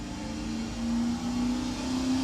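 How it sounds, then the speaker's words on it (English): Distant car engine with panned sound, a steady low hum with a rising tonal whine as it gets a little louder midway, constant and unbroken, no voices. "having it just blast engine noise in your face didn't quite sound right, even though it was panning"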